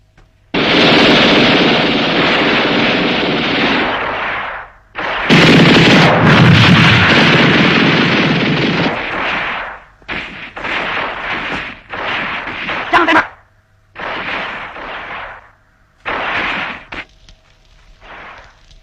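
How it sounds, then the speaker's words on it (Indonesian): Loud, sustained bursts of heavy gunfire in a historical war film, roaring for several seconds at a time, then breaking into shorter separate volleys with brief gaps between them. "tembakan dimulai dari pihak sana"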